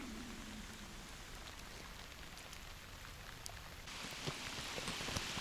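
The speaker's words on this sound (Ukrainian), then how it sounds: "І дощ іде конкретний." Rain falls during a catfishing outing, a faint, steady patter with scattered droplet ticks that grows louder and denser partway through.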